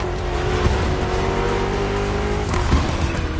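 A BMW M CS driven in The Crew Motorfest gives a steady loud engine drone with brief tyre squeals, carrying on under no talk.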